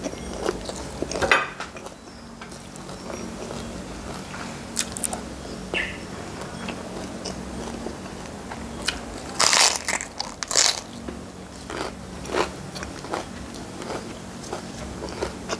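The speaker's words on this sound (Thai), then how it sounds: "กินกับผักแพรวอร่อยค่ะ" Someone eats southern Thai sour fish curry with crunchy fresh Vietnamese coriander, making close, irregular crunching bites and chewing along with light clinks of cutlery and dishes.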